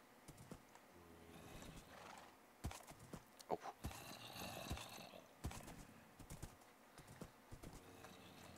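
A Minecraft horse clip-clops in a quick, uneven rhythm of hooves, with a whinny in the middle. A voice briefly exclaims over the hoofbeats, which sit fairly faint and close.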